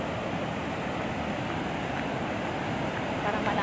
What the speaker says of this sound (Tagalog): lumakas na siya yung pagpapalabas ng tubig